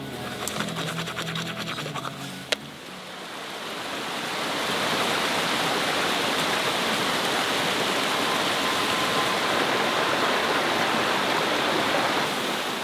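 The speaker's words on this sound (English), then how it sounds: "The first place I visited was Johanneskoski, a little waterfall just by the road" Johanneskoski, a small roadside waterfall in Finland, rushing as a steady broad hiss of falling water that swells louder after a few seconds of brief mechanical whirring at the start.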